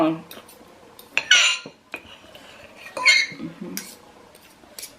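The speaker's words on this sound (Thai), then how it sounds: "พ่อได้ยินเสียงเหมือน ขูดจานแบบนี้" Metal cutlery scrapes and clinks against a plate in several short strokes, with quiet pauses between them.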